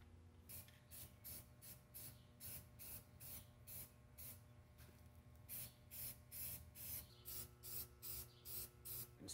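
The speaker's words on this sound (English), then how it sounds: "we're gonna get to spraying" Rapid bursts of spray paint hiss over a Cushman Truckster during restoration, pulsing in short repeated strokes over a steady low hum, fairly quiet and without any talk.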